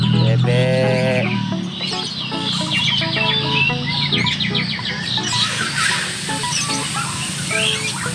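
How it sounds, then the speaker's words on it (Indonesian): Ducks and chickens at a busy poultry market keep up a loud, dense mix of quacks, clucks and chirps that overlap without pause across the whole stretch. No one speaks. "Banyak sekali bebek"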